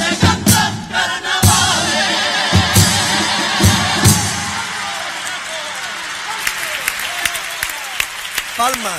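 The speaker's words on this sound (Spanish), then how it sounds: "Palmas, palmas" Audience applause and cheering at the final of the Almería 2024 carnival contest, following a comparsa's pasodoble performance; dense, sustained clapping from a large crowd with shouts, fading slightly toward the end.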